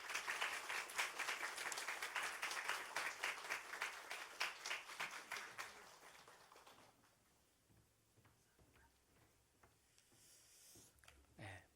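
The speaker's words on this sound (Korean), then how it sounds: "우리 백충환 목사님 나오실 때 따뜻한 박수로 우리 맞이하겠습니다." A church congregation claps warmly to welcome a visiting pastor to the pulpit. The applause is fairly loud and continuous for about seven seconds, then tapers into a few scattered claps and quiet room noise.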